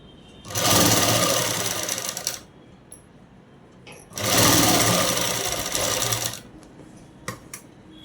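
A sewing machine stitches a hem on a dress in two loud, steady runs of rapid whirring, each about two seconds long, with a quiet pause and a few small clicks between and after them.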